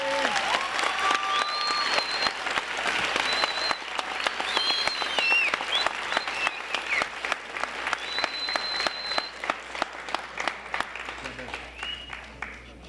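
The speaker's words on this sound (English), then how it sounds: "I would like you all to give a round of applause to Miss Amanda" A commencement audience gives a sustained round of applause, dense steady clapping from a large crowd that continues for many seconds, with faint voices underneath.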